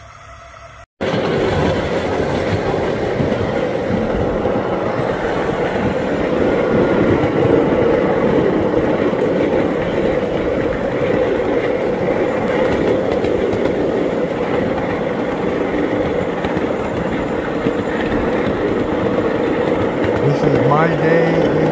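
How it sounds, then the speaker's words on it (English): The Jupiter, a 7 1/4 inch gauge, 1/8 scale live steam train on the Waushakum Railroad track: steady close rumble with rhythmic wheel clatter, loud and continuous after a brief quiet start, with some talk over it. "This is called the Jupiter. It's right around the Waushakum, 7 1/4 inch, 1/8 scale."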